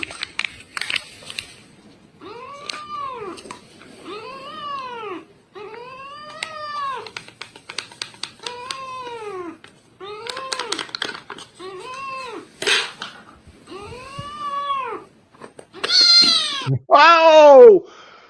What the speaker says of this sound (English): it went from just polite little meows to holy cripe.